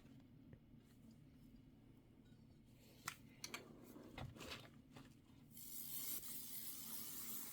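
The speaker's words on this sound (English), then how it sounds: "So I'm going to go ahead and spray this." A spray can sprays onto fabric for a Halloween-themed quilting project. Quiet handling clicks and rustles come first, then a sustained, breathy hiss starts near the end and continues to the close, fairly close and without talk.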